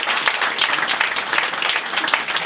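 A crowd applauding steadily at a live stage show in French, dense continuous clapping filling the whole stretch at a loud, even level.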